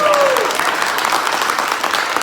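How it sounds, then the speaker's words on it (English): An office team claps together in a steady burst of applause, many hands close and loud throughout, with a faint whistle-like tone at the start and no talking. "everybody always claps when payroll's out"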